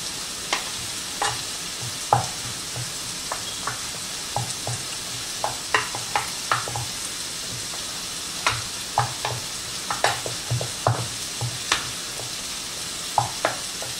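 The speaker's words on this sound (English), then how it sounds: "In with my potatoes. And stir that together." Potatoes stirred into a mushroom and herb shepherd's pie filling, a soft sizzle under repeated spoon scrapes and taps against the pan, spaced irregularly and heard close with no talking.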